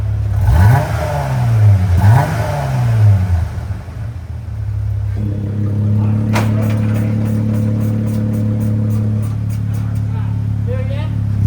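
Jeep Gladiator engine with a compact aftermarket muffler, revving hard and rising and falling in pitch, then settling into a steady deep idle rumble, close and loud with people talking nearby.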